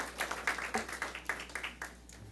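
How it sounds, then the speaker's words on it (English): An audience at a CUSD school board meeting claps for Enrique Camarena Junior High School. The applause is light and fairly faint, with separate claps clearly audible in an uneven rhythm. "Let's give Enrique Camarena Junior High School another round of applause for their amazing work."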